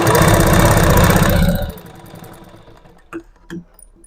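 A sewing machine stitches cloth with a fast, loud mechanical rattle for about a second and a half, then stops, leaving a few faint clicks and handling sounds.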